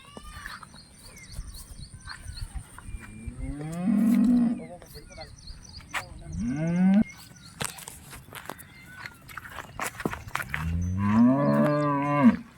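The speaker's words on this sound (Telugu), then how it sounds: "ఈ ఆవు వచ్చేసి బ్లాక్ అండ్ వైట్ ప్యాచెస్తో ఉన్న హెచ్ఎఫ్." Holstein Friesian (HF) dairy cow with black and white patches, a ten-litre milker being unloaded, moos loudly and close several times, each a long, low call, over faint background movement and footsteps.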